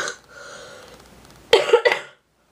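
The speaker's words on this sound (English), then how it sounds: "sorry, coughing aside" A short burst of coughing, two or three quick, close coughs after a moment of quiet breathy noise.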